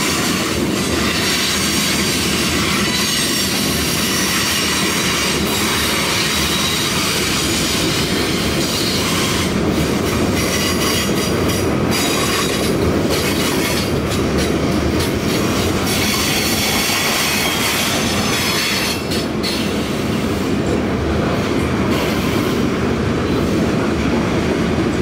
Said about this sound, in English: Today, this train is the K-82 Taylor to Binghamton, New York turn job that ran 5 and sometimes 6 days a week.